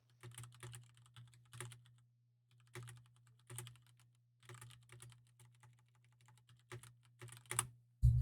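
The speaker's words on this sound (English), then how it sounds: "I'm listening and typing." Keys clatter on a computer keyboard as a game master types during an online tabletop roleplaying session, coming in uneven bursts and pauses over a steady low hum, close and fairly quiet.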